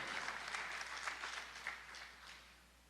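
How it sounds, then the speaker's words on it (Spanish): Church congregation applauding, a steady wash of clapping from many hands, fairly faint and distant, rising and falling slightly before tapering off at the end. "Morristown debe aplaudir, allá atrás deben aplaudir más fuerte"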